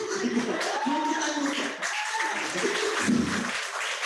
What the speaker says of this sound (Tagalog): palakpakan natin po yung mga first time po tayo nakita